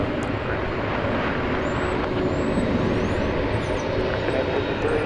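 An airliner taxis at Dallas/Fort Worth airport, turning left near a waiting MD-11, its engines giving a steady, broad rumble and whine that holds level throughout without voices.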